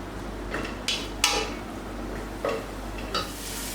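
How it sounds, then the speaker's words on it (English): Garlic sautéing in a pan for mussel chowder: a low, steady sizzle under a few sharp utensil clinks and scrapes as it is stirred, close by with no talking. "followed by your garlic. And we have to saute this a little bit."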